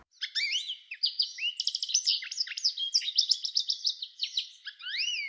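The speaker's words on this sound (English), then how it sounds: "The bird of the week this week is the American Goldfinch." An American goldfinch sings alone, a continuous run of bright, rapid twittering notes and chirps with sweeping whistled slurs, fairly faint and steady throughout.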